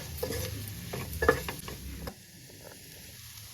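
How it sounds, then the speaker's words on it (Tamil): Chili, coriander and turmeric powder stirred and fried in a pan for a dried fish curry, with soft scraping of a spoon and light sizzling, fairly quiet and close, no talking. "மிளகாத்தூள், தனியாத்தூள், மஞ்சத்தூள், தேவையான அளவுக்கு உப்பு, இதெல்லாம் 3 எல்லாம் போட்டுட்டு நல்லா வறுத்துக்கோங்க"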